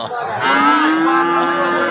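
A cow at a cattle market in Dharmapasha, Bangladesh lets out a long, loud moo with a rising tone, close by, with no talking over it.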